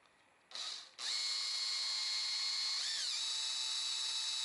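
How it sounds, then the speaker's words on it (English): Power drill with a 3/32 bit drilling out a part on a tow hook license plate holder: a short burst, a brief pause, then a loud steady high whine that holds for several seconds with a slight pitch dip partway. "Yeah, it drills out really easily."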